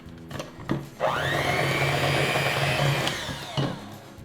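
A stand mixer with a paddle attachment beats thick gingerbread dough. After a couple of knocks the motor spins up to a loud, steady whirring hum that runs for about two seconds, then winds down with a clunk, and nobody speaks.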